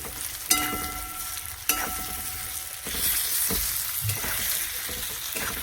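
Tomato goes into a hot pan of frying food, setting off a bright, loud hiss and crackle with a couple of sharp clanks from the utensil, the sizzle settling into a steady rush.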